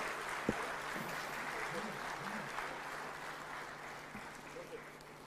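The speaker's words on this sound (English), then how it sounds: "a bigger round of applause to our distinguished presidents" An audience applauds African heads of state at a summit of African leaders, a soft, steady wash of clapping heard from a distance and faint, with a voice speaking over it.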